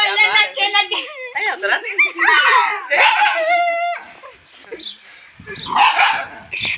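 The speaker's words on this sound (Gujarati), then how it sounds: "કુતરું" A dog barks and yips repeatedly at close range, mixed with excited children's voices talking over it.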